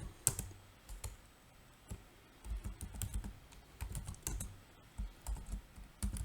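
Computer keyboard keys clicking in irregular bursts while an SQL query is typed, close and fairly quiet, no talking.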